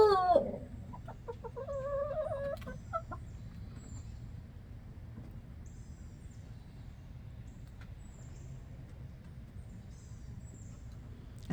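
Pet chickens in a coop, with a rooster's crowing and clucks at the start, then faint scattered calls over a low background hum.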